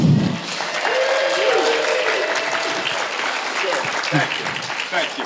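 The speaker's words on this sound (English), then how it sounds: "Please welcome, big round of applause, David Giuntoli and Bitsie Tulloch" A convention panel crowd at Terrificon applauds as David Giuntoli and Bitsie Tulloch are welcomed, a full steady clapping with cheers, and a voice speaks over it.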